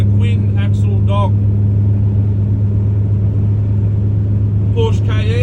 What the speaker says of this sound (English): My combination is a truck and a twin axle dog.